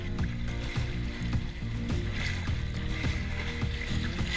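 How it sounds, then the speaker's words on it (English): Waves slap against the hull of a sailboat under sail on Lake Washington, with wind noise and no engine, a steady broadband wash with soft rhythmic knocks of water throughout. "this is the only sound we hear under sail. No motor, no obnoxious diesel or gasoline engine running, simply the waves crashing into the hull and the wind."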